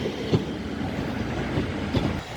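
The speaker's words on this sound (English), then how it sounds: "Departing now is 151 130. Coupled up with 156." A coupled class 151 and class 156 diesel train departs Manchester Piccadilly, a steady rumbling roll with a few soft wheel clacks, moderately loud and continuous with no voices.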